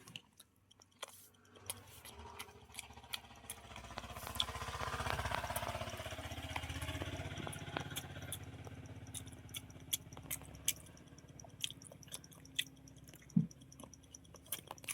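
Boiled eggs are chewed during a fast egg-eating challenge, with close, wet mouth sounds and soft munching that continue steadily, plus scattered small clicks and bumps.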